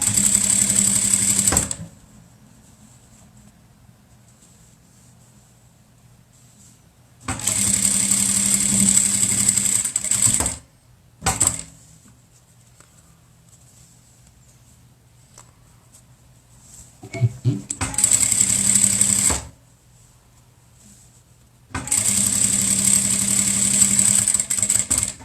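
A sewing machine stitches the pieces of a fabric face mask in four loud bursts of steady mechanical whirring, separated by quiet pauses and a brief short run.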